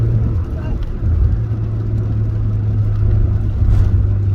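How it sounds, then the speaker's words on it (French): A Citroën DS engine idles with a steady low hum and rumble, close by, rising slightly near the end; a voice talks over it. "Fait du bruit la voiture, hein."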